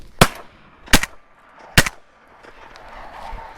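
Three sharp 28 gauge shotgun blasts fired at ducks over a flooded cornfield, spaced under a second apart, loud and close, followed by a quiet outdoor tail.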